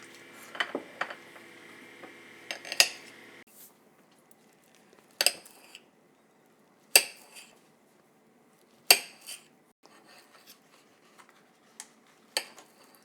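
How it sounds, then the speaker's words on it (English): A kitchen knife slices a banana into small pieces, producing a handful of sharp, separate clicks and taps on a hard surface, spaced a second or two apart, with faint clatter of utensils between them in an otherwise quiet room. "we're going to start by cutting up the banana into tiny little slices"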